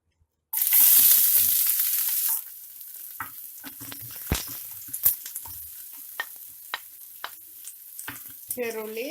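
Chopped shallots hitting hot oil in a pan for a Kerala prawn roast, a loud burst of sizzling at first that settles into quieter crackles and taps, with someone speaking briefly near the end.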